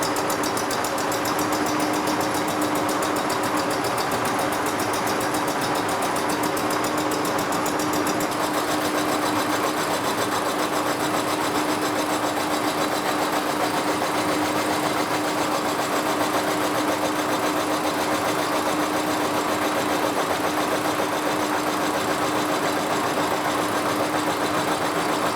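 A horizontal milling machine takes a light final pass across a cast iron Delta grinder stand, producing a steady, loud, continuous mechanical drone with a sustained tonal hum and no pauses.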